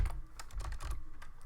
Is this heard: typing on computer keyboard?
yes